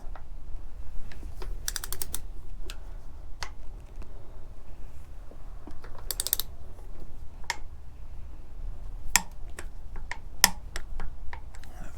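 A torque wrench tightens an R&G crash slider bolt on a Honda CB650R motorcycle, giving a quick series of sharp ratcheting clicks and ticks, close up, in short bursts with brief pauses.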